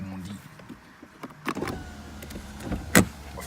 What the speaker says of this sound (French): Faut pas oublier de fermer les fenêtres sinon.